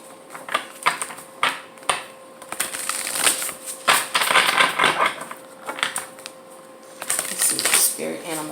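Oracle cards are shuffled by hand in repeated quick riffling bursts, close by, with a person talking between the shuffles.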